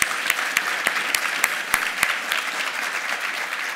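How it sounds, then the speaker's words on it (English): An audience applauds a panel at an African infrastructure conference session: steady, dense clapping with crisp individual claps standing out, sustained through the whole stretch without voices. "Can we just give the panel a round of applause?"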